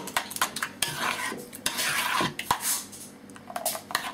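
Rapid clinking and scraping of a utensil in a bowl, with wet, soft plopping sounds as light, runny Yorkshire pudding batter is beaten, close and continuous.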